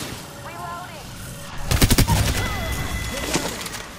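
Rapid bursts of gunfire in the video game Apex Legends, a loud volley of closely spaced shots starting midway and continuing more sparsely, with faint game chirps and background noise.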